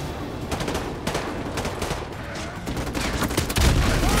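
Gunfire in the video game Call of Duty Modern Warfare 2, a dense fusillade of rapid shots and bursts at moderate volume, with a heavier blast near the end.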